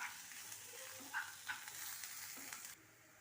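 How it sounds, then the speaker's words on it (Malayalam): Onion, green chilli, ginger and garlic sauté in a pan, giving a soft, continuous sizzle with a few brief stirring scrapes and no talk. "എന്നിട്ട് നന്നായി വഴറ്റി കൊടുക്കുക."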